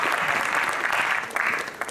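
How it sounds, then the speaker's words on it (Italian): An audience at a cast meet-and-greet for a Sky Original drama series applauds steadily, a dense continuous wash of clapping hands with a brief swell near the end, no talking over it. "Ah, vogliamo fare un applauso, giusto?"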